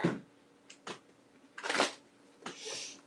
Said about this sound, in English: Let me give it a good shuffle here.